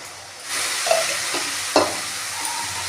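Sesame paste curry frying in a pan, a steady close sizzle broken by a few sharp spoon scrapes and knocks as it is stirred.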